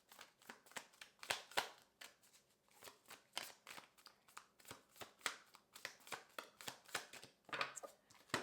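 Tarot cards are shuffled by hand in quick, close, crisp bursts of riffling and slapping, some louder than others, repeating irregularly throughout with no talking.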